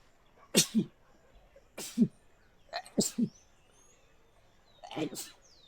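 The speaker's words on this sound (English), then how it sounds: "Just immediately sneezing at the start of this." A streamer playing Dragon Age: Inquisition sneezes four times in close succession, each a sharp, near burst with a short pause between, the last one softer, with quiet room tone in between.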